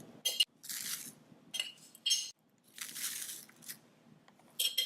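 Japanese-style rice seasoning mix spooned onto rice, several short crisp rustling, crunching pours with light clinks of spoon on container, close and fairly quiet, separated by brief silences.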